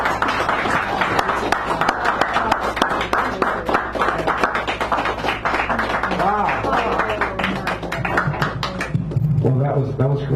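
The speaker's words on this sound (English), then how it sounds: "Another round of applause, please." Sustained clapping and applause from an audience at a poetry reading in a café, dense and continuous throughout, with a voice speaking over it near the end.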